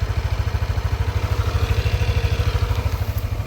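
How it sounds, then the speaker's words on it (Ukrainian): A Yamaha Nmax 155 scooter engine idles steadily nearby, its low putter pulsing in an even, rapid rhythm with no revving. "по двигуну працює гарно рівні оберти"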